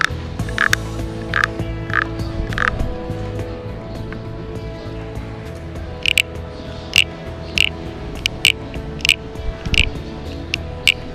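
Short, regular croaking pulses repeat like a toad's call, a few spaced bursts early, then a quicker run later over a low background hum.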